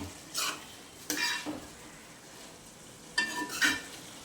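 A spoon stirring chicken curry in a pot on the stove, with a few short scraping, sizzling bursts separated by quieter gaps, close and fairly soft.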